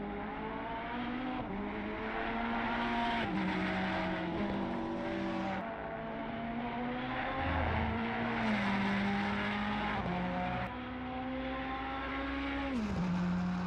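A Ferrari GT3 race car roaring around Spa in Assetto Corsa Competizione, its engine holding a loud, steady high-revving drone with sharp shifts and dips in pitch as it brakes and accelerates through corners.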